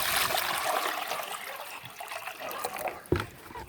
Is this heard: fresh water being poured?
yes